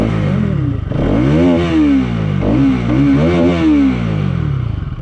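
A grey Bajaj Pulsar NS 200 motorcycle, a KTM-style naked bike, revs its exhaust close by, with the engine note climbing and falling through several loud surges over about five seconds.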